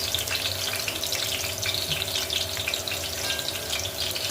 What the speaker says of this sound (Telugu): ఇక ఫ్రై అయితేనే బాగుంటుంది కదండి పుదీనా, అందుకే పుదీనా వేస్తున్నాను